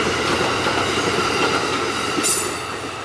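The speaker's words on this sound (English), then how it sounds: "There goes Amtrak." An Amtrak passenger train rushes past at night in Fairport, NY, a loud, continuous roar of wheels and rail noise with a brief high squeal near the end as it begins to fade.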